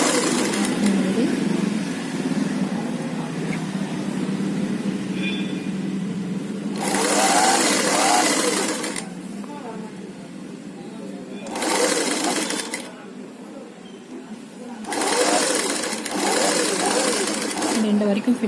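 A sewing machine stitches a slip garment in several loud, steady whirring bursts of a few seconds each, separated by pauses. A voice talks throughout.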